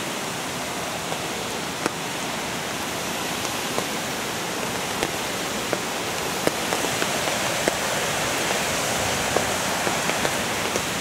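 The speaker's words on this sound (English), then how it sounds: "Waterfall." A waterfall along a walking path in a Japanese village, a steady, full, hissing rush of falling water that fills the whole clip, heard up close with no talk.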